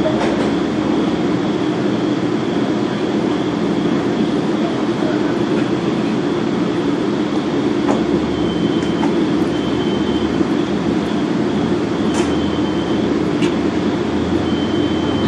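A Metro-North passenger train passes through Scarborough station at night, with a loud, steady rolling roar of railcars close by and faint wheel squeals and clicks over the continuous rumble.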